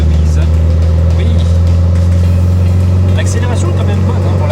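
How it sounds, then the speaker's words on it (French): A Volkswagen 1303 Karmann Beetle convertible's engine drones steadily from inside the cabin while accelerating, a low constant hum that stays loud throughout, with voices talking over it. "L'accélération est quand même bonne pour la voiture."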